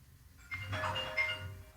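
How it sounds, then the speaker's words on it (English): A phone rings briefly during a podcast recording, a faint electronic ringtone tone rising over low room hum without talk. "Oh, the phone."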